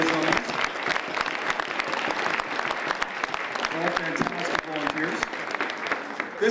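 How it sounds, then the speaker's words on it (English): An audience at a community volunteer awards ceremony gives a sustained round of applause for the nominees, with many hands clapping steadily and sharp individual claps standing out. A voice speaks faintly beneath it. "Could we please have a big round of applause for all those nominees?"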